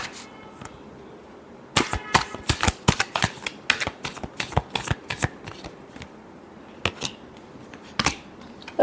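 Tarot cards being shuffled in a run of crisp, rapid riffling bursts and slaps, close and dry, with short pauses between flurries and no talk over them.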